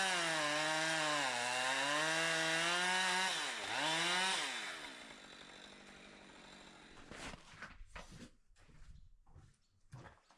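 A loud chainsaw cutting maple trees in hard cold revs steadily and rises in pitch, dips briefly, then winds down into idling and scattered rough, clattering bursts.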